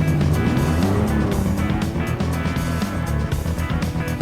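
A TVR Tuscan S sports car drives loud and close, its engine a steady, continuous rumble that holds level throughout with no voices.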